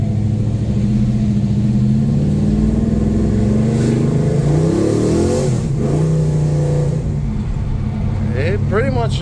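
An LS-swapped Chevelle accelerates hard and hazes its tires, the engine roaring loudly and continuously in a steady drone with a rising pitch near the end. A voice talks over it.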